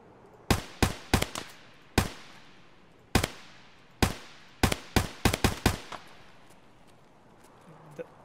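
Sharp single gunshots in the Escape From Tarkov shooter, about fifteen distinct cracks in irregular bursts, some in quick succession, each with a short echoing tail, fairly distant, with faint talk underneath.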